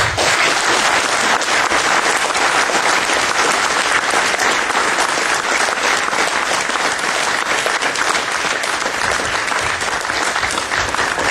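Sustained applause from an audience at a university game development final project presentation, dense and steady for the whole stretch with a faint murmur of crowd voices mixed in.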